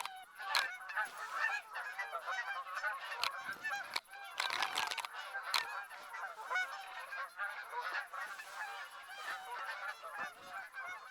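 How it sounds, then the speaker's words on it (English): Geese honk in a loud, overlapping chorus throughout the hunting field of theHunter: Call of the Wild, near Sommer's cornfields, with dense repeated calls and no voices. "Despite the chorus of goose honks"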